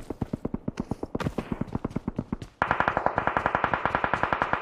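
Rapid automatic gunfire in a shooter video game, steady bursts of close, loud shots that shift into a denser, brighter rattle partway through, with no talk over it.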